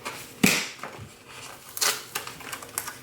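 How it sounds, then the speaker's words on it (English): Scissors trimming a sheet of planner sticker paper, close up: one sharp, loud snip early on, then several lighter crisp clicks and rustles at an irregular pace, with no talking. "I'm just going to trim this right here"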